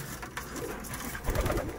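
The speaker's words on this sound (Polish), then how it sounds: "większość tu gołębi to jest" Aviary-raised pigeons in a breeder's loft give a brief burst of soft, throaty cooing close by, with no one speaking.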